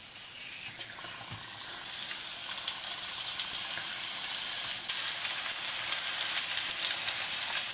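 Leek galette batter fries in hot oil, producing a loud, dense, continuous bright crackle that swells gradually and stays steady, with a faint knock early on.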